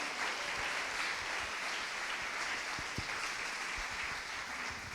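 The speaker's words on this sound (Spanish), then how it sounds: "Dale un fuerte aplauso a Dios" Sustained applause from a church congregation, a dense steady clapping that fills the room throughout with a few sharper claps standing out, no voices heard.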